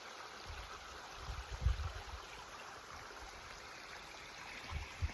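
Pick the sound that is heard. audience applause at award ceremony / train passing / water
water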